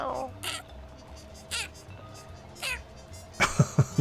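A cat in the video game Mewgenics meows repeatedly: three short, bright meows spaced about a second apart, then a quick burst of louder clipped cries at the end, close and clear over a quiet background.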